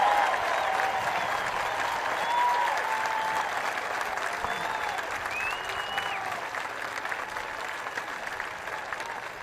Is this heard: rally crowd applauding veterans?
yes